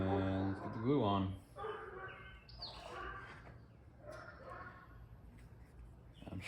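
A house dog barks and whines at a dog walking by in the neighborhood: a loud rising whimper at the start, then softer intermittent yips and whines.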